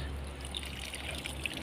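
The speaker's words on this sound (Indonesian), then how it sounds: "tinggal proses siram, nyiramnya guys dikit-dikit gini caranya." A Ficus bonsai in burnt rice-husk growing medium is watered little by little from a water scoop, giving a faint, steady trickle with a few soft drips, heard alone without speech.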